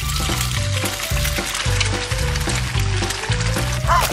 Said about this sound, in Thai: เอาปลาลงไปทอดในน้ำมันร้อน